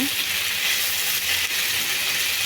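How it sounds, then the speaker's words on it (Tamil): Vegetables sauté loudly in a hot pan for Tamil-style soya egg rice, a steady close-up crackling sizzle with no talk. "இந்த அளவுக்கு நல்லா வதக்கிக்கணுங்க."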